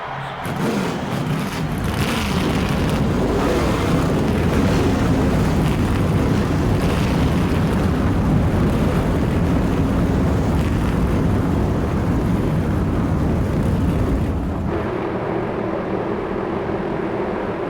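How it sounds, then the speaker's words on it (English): A field of NASCAR stock cars in the NASCAR Thunder 2003 racing game fires up and holds a steady, loud, dense engine roar for most of the stretch before it cuts away abruptly. "Gentlemen, start your engines."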